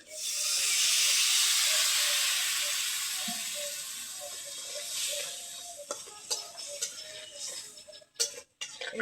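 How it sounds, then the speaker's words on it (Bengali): Water poured into a hot pan of frying spices, chili and turmeric powder, and dried fish, erupting in a loud, close hiss that slowly fades to softer sizzling, with a few clinks and taps near the end. "কষানোর জন্য একটু পানি দিয়ে দেবো"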